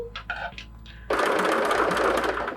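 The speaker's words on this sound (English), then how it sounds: "I'm using an open toe foot to still stitch it all together with" A sewing machine fitted with an open toe foot stitches fabric for an embellished book cover, starting after a few soft handling noises and then running as a steady, loud, continuous whir close by.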